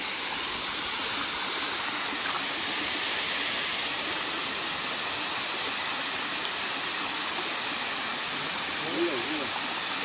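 A waterfall roars as a dense, steady broadband rush at a campsite, constant and loud with no change across the stretch, and no clear voices standing out.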